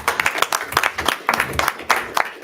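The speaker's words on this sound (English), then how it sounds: "he deserves a round of applause" Loud, close applause from a small group at a school board of education meeting, with individual claps distinct in an uneven, choppy rhythm rather than a dense wash.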